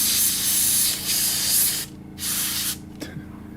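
An airbrush sprays primer in a steady close hiss, cutting off briefly twice between longer bursts, with no voices.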